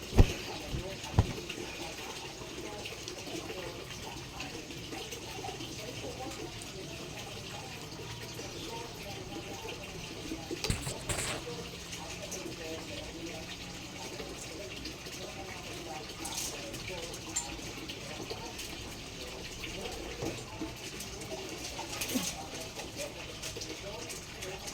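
Tap water runs steadily into a container being filled for a bath, a continuous splashing gush with a few sharper knocks, while a person talks over it.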